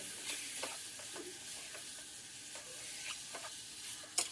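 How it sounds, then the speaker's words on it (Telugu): Mutton coated in ginger garlic paste frying over a medium flame, a faint steady sizzle and hiss with soft intermittent stirring scrapes throughout and a sharper knock at the end. "పచ్చివాసన పోయే వరకు చక్కగా ఒక ఐదారు నిమిషాలు వేయించుకోండి మీడియం ఫ్లేమ్లో"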